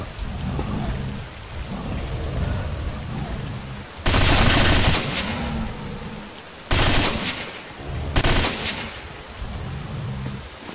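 Gunfire aimed at wild boars in S.T.A.L.K.E.R., heard as several loud, broad bursts of shots, one long and two shorter, cutting through a steady noisy outdoor game ambience.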